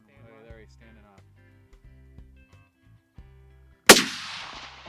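A single sharp, loud rifle report from a long-range groundhog shot at roughly 300 yards cracks out after a quiet stretch with faint speech and clicks, then decays in a long, rolling echo across open country.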